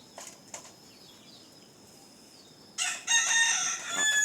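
A white rooster crows loudly and close by, a long ringing call that follows a few faint scratchy sounds and a stretch of quiet.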